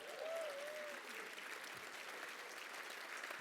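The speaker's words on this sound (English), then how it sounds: "can we give a round of applause for the food tonight?" Audience applause at a Petoskey chamber of commerce awards celebration, a dense and steady clapping from a crowd that holds for several seconds, with a brief whistle near the start.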